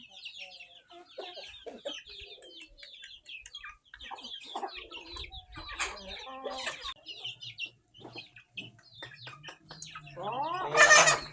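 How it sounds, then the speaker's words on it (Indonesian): Many chickens cluck and squawk nearby in an irregular, busy chorus, with a louder burst of calls near the end. "Nah, ayam loba."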